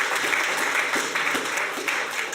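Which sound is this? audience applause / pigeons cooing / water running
audience applause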